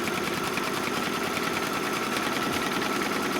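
An embroidery machine stitches a tack-down placement line, a fast continuous mechanical chatter at a steady, fairly loud level with no talk.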